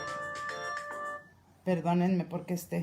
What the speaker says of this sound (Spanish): este teléfono no estaba en silencio